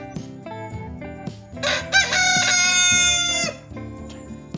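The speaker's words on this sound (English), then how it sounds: "That's our rooster Bertram." A rooster crows loudly once, a long drawn-out call rising over steady tonal sounds in the background.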